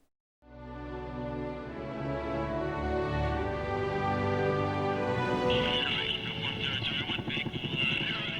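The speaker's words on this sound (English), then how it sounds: "a rare view aboard an Army rescue helicopter flying the eastern coast of Africa" Steady rotor drone of an Army rescue helicopter in flight over the eastern coast of Africa, building in loudness and holding throughout, with a voice speaking over it.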